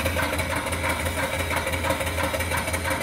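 A small steam engine on a rare return flue boiler runs steadily, its exhaust chuffing up the stack in an even, repeating pulse heard close and moderately loud without talk.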